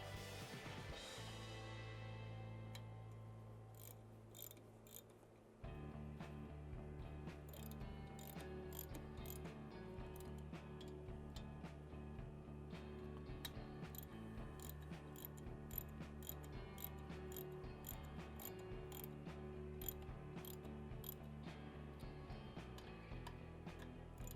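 A ratchet clicks in quick repeated bursts while tightening bolts on an S&S Cycles 1200cc Hooligan big-bore kit fitted to a Harley-Davidson Sportster 883 engine. The dense mechanical ticking runs steadily and up close, with short pauses between strokes and no talking.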